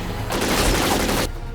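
Gunfire from behind cover in the video game Syphon Filter: Dark Mirror, a dense, loud roaring burst of rapid shots lasting about a second, with no talking.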